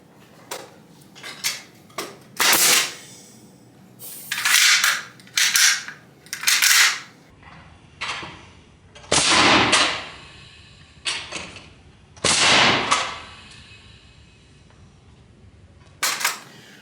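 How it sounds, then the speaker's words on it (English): Pneumatic nail gun driving nails into wooden framing boards for a basement bar wall, about eleven sharp, loud bangs fired singly and in quick pairs, with quiet gaps between shots. "feeling these nails go in, there's significant kickback on the gun"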